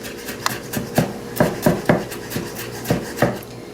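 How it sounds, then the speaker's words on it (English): Knife mincing garlic on a cutting board for Caribbean coleslaw, a steady series of sharp, close chops at an uneven rhythm, about a dozen strikes with faint scraping between them and no talk. "when we mince the garlic, we're trying to get it into small pieces"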